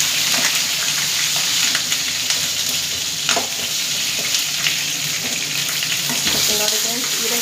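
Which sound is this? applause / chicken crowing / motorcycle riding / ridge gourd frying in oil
ridge gourd frying in oil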